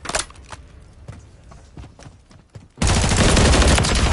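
Gunfire in Modern Warfare 3 multiplayer: scattered single shots and footstep-like thuds early, then from about 2.8 s a loud, continuous hail of rapid automatic fire that persists to the end.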